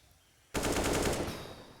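Glock pistols fire during a Counter-Strike match at IEM Cologne 2023 on the map Ancient, heard as a sudden, loud, rapid string of shots that starts after a quiet moment, then fades into a lingering tail.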